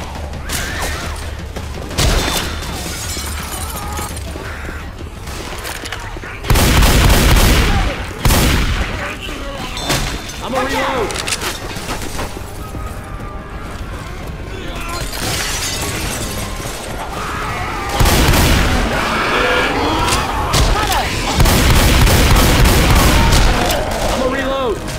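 Gunfire rattles through Left 4 Dead 2 gameplay in loud bursts of rapid shots with sharp cracks and crashing impacts, rising and falling across the scene, mixed with game sounds and brief voices.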